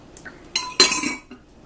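Meatballs dropped one after another into a pie dish, a few soft thuds and clinks of utensil against dish, close and clear with quiet gaps between.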